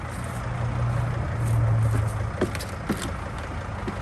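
A 2005 Freightliner Sprinter with a 2.7L diesel T1N, showing a P0299 code, idling while it warms up: a steady low engine drone, nearby and fairly loud, with a few light clicks over the hum.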